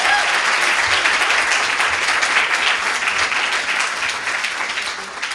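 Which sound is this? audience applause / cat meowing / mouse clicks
audience applause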